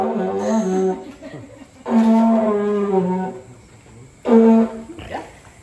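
A didgeridoo blown with the lips too hard gives three loud, strained, honking bursts that sound almost like a cow mooing, separated by quieter gaps with faint breathy noise.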